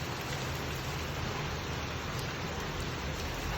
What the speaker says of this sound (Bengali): কি বৃষ্টি শুরু হয়েছে সকাল থেকে,